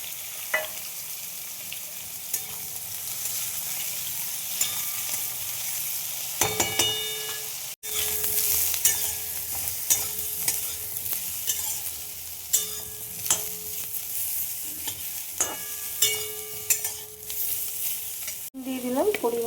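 Eggplant fries in a pan with a steady, close sizzle, broken by occasional stirring scrapes and clatters along the way.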